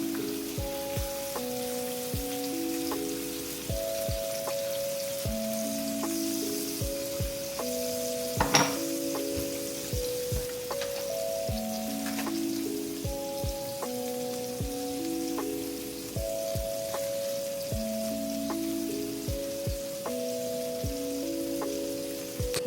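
Potatoes boiling hard in a pot for mashing throw out sharp, scattered pops and spatters over a low bubbling, heard beneath steady melodic background music with no talking.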